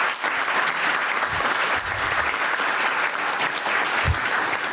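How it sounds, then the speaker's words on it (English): Audience applause for school employees at a school board meeting, a room full of people clapping steadily and loudly throughout, with a few low bumps and knocks mixed in. "How about a round of applause for all of the employees?"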